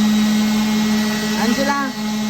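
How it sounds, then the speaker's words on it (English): An electric sander works on fiberglass during a boat renovation, giving a steady, close motor whine with a brief voice rising over it near the end. "you like the sander?"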